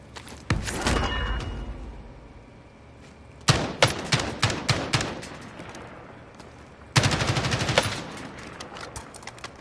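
Loud, close bursts of rapid machine gun fire in a video game come in three separate rattling volleys, with lulls of quieter ambience between them.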